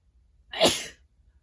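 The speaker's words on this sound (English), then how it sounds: "I'm going to sneeze, so hold on." A single short sneeze, close and fairly loud, rising sharply and fading within a second against near silence.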